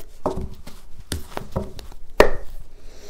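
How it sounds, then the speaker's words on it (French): Thick tarot cards shuffled by hand, giving a series of sharp, close slaps and riffles in an irregular rhythm, with one louder snap near the end; no talking. "ces cartes sont épaisses. J'ai du mal à les mélanger"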